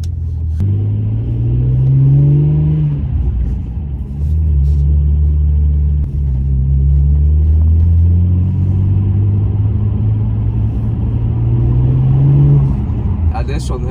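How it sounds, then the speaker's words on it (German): Deep rumbling BMW E82 1er M Coupe with the N54 engine and aftermarket exhaust while driving, the engine note rising and falling with throttle, loud and close. "der hört sich schon mehr nach einem Sauger an als ein Turbo, ne? N54 Motor hat er."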